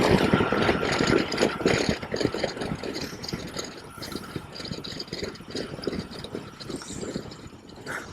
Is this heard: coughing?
no